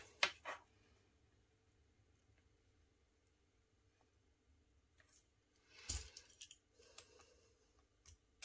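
Paper snipped with scissors while a baby scrapbook album is being made, giving a short burst of close, crisp cuts after long quiet stretches, with a few light clicks and rustles.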